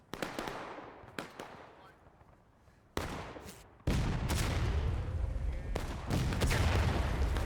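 Musket volleys in the Civil War video game War of Rights: scattered single cracks, then a dense, rolling crash of many muskets firing together, near and loud, with more shots popping through the din.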